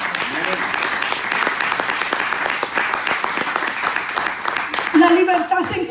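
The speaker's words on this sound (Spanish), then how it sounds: "Dale un aplauso al Señor." A church congregation claps for the Lord during a Spanish-language sermon, a steady crowd of sharp claps with rhythmic accents throughout and voices rising over it near the end.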